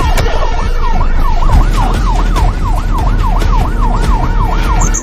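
An ambulance siren wails in a film scene as the vehicle speeds into a narrow alley, a loud, close, rapidly repeating rising-and-falling tone that continues without a break over engine rumble.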